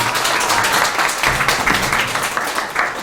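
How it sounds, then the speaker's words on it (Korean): An audience at a five-minute speech event applauds after a speech, giving steady, dense clapping from many hands at close range, loud and continuous for the whole stretch. "박수 한번 부탁드립니다."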